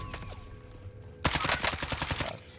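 Rapid automatic gunfire in the video game Warzone, a loud burst of repeated shots erupting after a quieter stretch and continuing steadily to the end.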